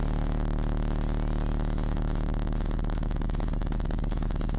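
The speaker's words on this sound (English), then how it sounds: "this oscillator down here is opening and closing this filter however many times" A synthesizer filter opened and closed rhythmically by a second oscillator, giving a dense, buzzy, steadily pulsing electronic tone that plays loud and continuous throughout.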